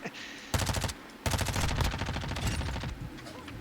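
Video game gunfire from an SMG and a sniper rifle, loud rapid bursts of automatic shots broken by a short gap, close and dense throughout.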